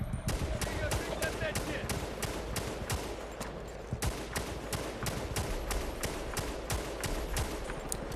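Semi-automatic M14 rifle shots in Battlefield: Bad Company 2, a steady rapid string of sharp, loud reports over a constant din of battlefield noise, with a faint voice in the background.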